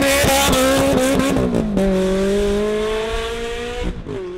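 Ferrari 360 Challenge Stradale engine accelerating hard at full power on a damp road, a loud, close, rising high-pitched wail with quick gear-change dips, then a long sustained pull that fades toward the end.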